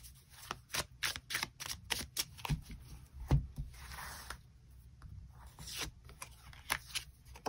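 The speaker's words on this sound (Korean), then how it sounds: "추가 카드 뽑아보도록 하겠습니다." Tarot cards being shuffled and drawn, a run of soft flicks, snaps and slides of card stock on a table, close and fairly quiet, with no voices.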